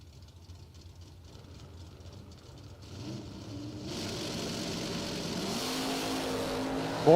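Drag race at the American DoorSlammer Nationals between an S10 and a Rampage Camaro, engines building from a low rumble to a sustained loud roar as the cars launch and pull away.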